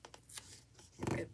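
Paper sticker sheet tearing slightly while a planner sticker is placed in an Archer & Olive planner, a few short close rips and rustles, the loudest burst near the end.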